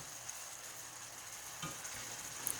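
Jerk-marinated oxtails searing in hot oil toward a crisp coating, giving a steady, quiet sizzle with faint crackles and no voices.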